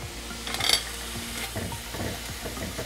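Ground meat frying in a pan with red wine and Worcestershire sauce for shepherd's pie, a steady close sizzle with light scraping stirs and a brief clatter early on, no talking.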